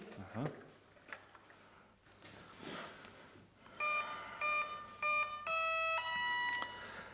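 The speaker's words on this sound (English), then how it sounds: "Three beeps, my friends, and that's it." After some quiet handling noises, a Freewing F-8 Crusader 64mm EDF RC jet gives a few short electronic beeps in quick succession, ending in a longer sustained tone, as its 3S battery is plugged in.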